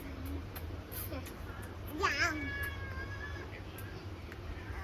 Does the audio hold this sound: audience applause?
no